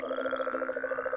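Toads croaking in the Minecraft video game: a close, continuous, rapidly pulsing croak that holds steady throughout, with no talk.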